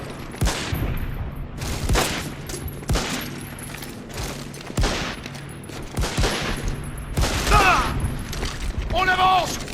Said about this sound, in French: Ça tire là-haut!